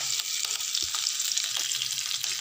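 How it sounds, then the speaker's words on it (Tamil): Chillies, garlic, salt, asafoetida and curry leaves sautéing in a pan for a Tamil ridge gourd peel thuvaiyal, with a steady close sizzle of frying and a few light stirring taps. "இப்ப மிளகாய் பூண்டு உப்பு பெருங்காயம் கருவேப்பிலை எல்லாத்தையும் ஒரு வதக்கு வதக்கிக்கறோம்ங்க"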